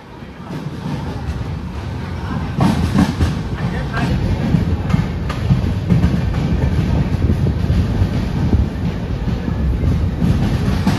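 A passenger train pulls into platform 1 at Sedam railway station, a loud continuous rumble and rattle of wheels on track with wind buffeting the microphone, and someone talking throughout.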